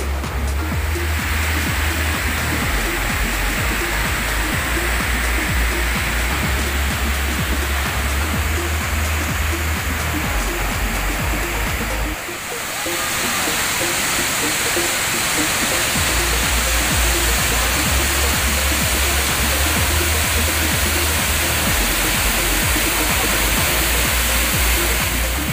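Coban Siuk waterfall in Indonesia roars as a steady, dense wash of falling water, loud and continuous throughout with a brief dip midway, no voices over it.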